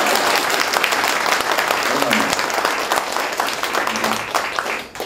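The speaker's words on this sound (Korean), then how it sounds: "박수 치면 또확 쳐주세요." An audience at a public debate on basic income at a book festival breaks into applause, a dense run of many hands clapping that fades near the end, with a voice briefly audible over it.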